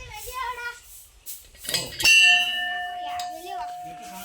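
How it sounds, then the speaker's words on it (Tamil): A bell is struck by hand, giving a bright metallic clang followed by a long ringing tone that slowly fades, with faint background chatter. "நம்மளும் மணி அடிக்கிறோம்."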